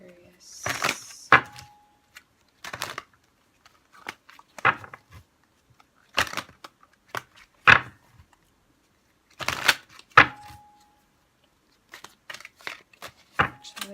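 Tarot cards are shuffled in repeated short riffling bursts separated by pauses, crisp and close with some quiet room noise between.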